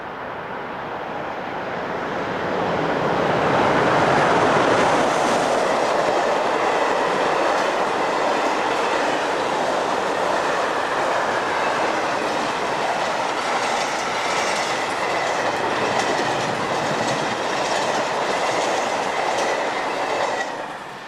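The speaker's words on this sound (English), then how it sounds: "Eleven 42-625 heads west through Nicklersdorf on the 14th of May 2001." An ÖBB class 1042 electric locomotive hauls a train west through Nicklersdorf, its loud rushing roar swelling quickly and holding with rhythmic clickety-clack of wheels over rail joints, then easing slightly as it passes, with no talking.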